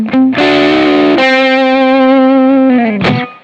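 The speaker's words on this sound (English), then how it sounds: "let's just hear the humbuckers all the way open." Electric Strat guitar with humbuckers and the tone knob fully open plays loud, bright, sustained distorted notes and chords, close and alone with no voices.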